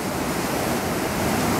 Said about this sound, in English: Look at that surf.